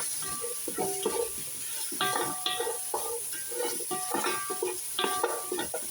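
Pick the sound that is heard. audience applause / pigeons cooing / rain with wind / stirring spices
stirring spices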